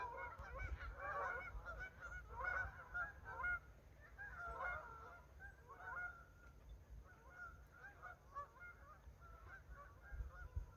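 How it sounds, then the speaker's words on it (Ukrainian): Geese honk repeatedly in a loose chorus, calls overlapping and fading in and out over a low rumbling background, fairly distant. "Оце, шановні гуси, вже летять."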